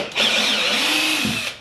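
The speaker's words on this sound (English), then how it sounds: "So I gotta get my drill." A power drill whines steadily as it backs screws out of wooden trim on an antique wooden boat, one continuous close, loud run of about a second with a slight pitch dip near the end.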